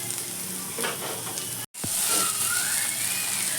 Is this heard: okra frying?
yes